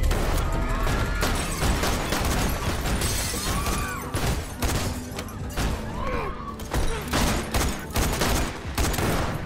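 Gunfire during a cafe holdup scene in the TV show Yellowstone: loud, rapid bursts of shots mixed with crashing and shattering, dense and chaotic throughout, with brief voices underneath.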